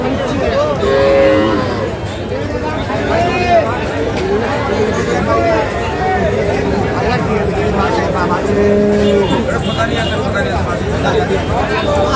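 Cattle at a Saturday livestock market in Kaharol upazila, where Sahiwal, Sindhi and local-breed dairy cows are sold, with a couple of drawn-out moos rising over a constant crowd babble and nearby chatter.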